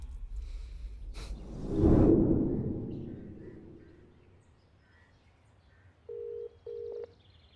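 A phone is dialed for a call: a soft whoosh swells and fades, then two short electronic tones beep in quick succession near the end, clear against a quiet background.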